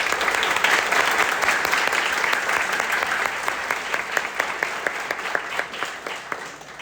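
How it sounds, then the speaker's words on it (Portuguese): Applause from an audience at an onboarding event, steady dense clapping that gradually thins to a few scattered claps toward the end, with no clear talk. "uma salva de palmas"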